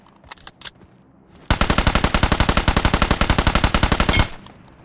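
Automatic fire from a Honey Badger rifle in PUBG Mobile: a few scattered shots, then a fast, sustained burst of close, loud rounds lasting nearly three seconds before stopping abruptly.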